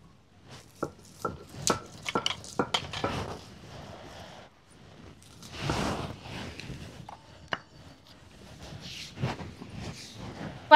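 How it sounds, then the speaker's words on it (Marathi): Green chilies are crushed on a stone grinding slab. Sharp knocks and taps of the stone come first in a quick irregular run, then slower rubbing and scraping strokes with a few isolated clacks, all close up and with no talking. "चला, आपण आता पाट्यावर वाटण तयार करून घ्यायचे। आधी हिरवी मिरची वाटून घेऊ।"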